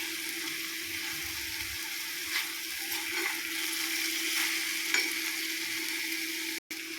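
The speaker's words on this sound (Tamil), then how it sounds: "அது கொஞ்சம் இப்படி கொதிக்கிறது, அது எண்ணெய் தான்." Oil bubbles and sizzles steadily in a pan as a dry spice dish fries, a continuous close crackling hiss with occasional faint clinks and no talking.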